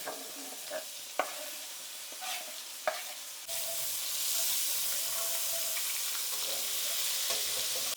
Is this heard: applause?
no